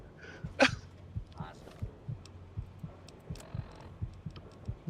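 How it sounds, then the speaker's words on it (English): A strong, steady video-game heartbeat thumps in a regular double-pulse rhythm, close and low, with a brief sharp burst near the start. "You hear his heartbeat because he's just so healthy."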